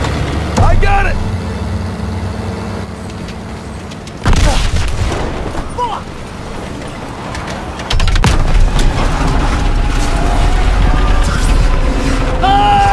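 A grenade goes off in the World War II shooter Call of Duty WW2, one loud boom cutting through shouting voices, with more heavy impacts and battle noise after it.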